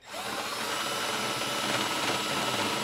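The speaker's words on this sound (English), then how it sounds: "gonna take a burr bit that I have here and just grind away a little bit of that edge to be able to drop that in" Burr bit on a power drill grinding away a plastic edge during a Curt trailer hitch receiver install on a 2024 Volkswagen Atlas; a steady, close, high-pitched whirring grind that starts abruptly and runs continuously without talk.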